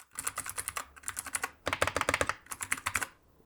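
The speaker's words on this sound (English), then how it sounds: "You can hear the clickiness of those keys." Bursts of rapid, crisp clicky typing on a Keychron K8 Pro mechanical keyboard with blue switches up close, with a short pause between runs of keystrokes.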